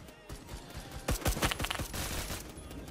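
Rapid automatic gunfire in the first-person shooter Phantom Forces, a dense burst of close, loud shots fired in quick succession, with a softer trailing rattle after the main volley.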